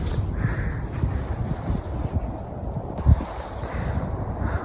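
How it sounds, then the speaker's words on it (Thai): Wind blowing across a grassy public park in Russia, a steady rushing hiss with soft gusts and one brief low thump near the microphone, with no voices. "ลมพัดซอยเย็นๆ"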